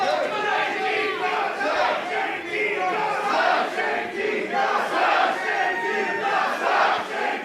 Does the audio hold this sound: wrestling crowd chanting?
yes